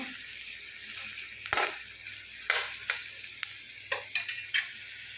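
Onion, ginger and garlic frying in a pan, a steady close sizzle with several sharp clinks and scrapes of a utensil stirring at irregular intervals.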